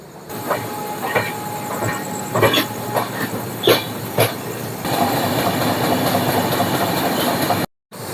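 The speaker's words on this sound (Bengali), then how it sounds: "শালিমার স্টেশন থেকে ট্রেনটা চলে এসে নেক্সট স্টপেজে এলো সাঁতরাগাছি জংশন রেলওয়ে স্টেশন" The Shalimar–Puri Express arriving at Santragachi Junction, heard from on board as rhythmic clicking and clattering of wheels over rail joints with hissing, then a steadier, louder rushing roar before a sudden cutoff.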